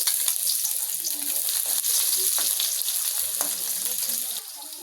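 Onion and garlic sauté in a little oil for native chicken adobo sa gata, giving a loud, even, hissing sizzle that holds steady throughout and eases slightly at the very end, with no talk.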